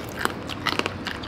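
Crispy roast pork skin, babi guling, cracking under a bite: several sharp, close crunches in a short burst, with no talking.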